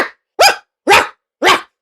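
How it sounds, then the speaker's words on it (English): A black and white husky barks savagely, three sharp, loud, close barks spaced evenly about half a second apart, each a harsh rising burst, with no other sound between them. "growl became a series of sharp, savage barks"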